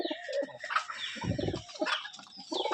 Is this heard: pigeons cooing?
yes